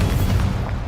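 A fiery Incendio spell goes off in a Harry Potter–style wizard video game, a short, dense booming burst that fills the whole moment with low rumble and hiss, close and loud.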